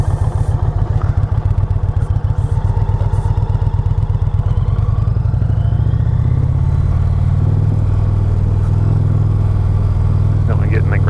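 A 2020 Indian Challenger motorcycle accelerates in sport mode, a loud close pulsing engine note that rises in pitch and smooths out as it speeds up, with wind rumble and a rider talking over it.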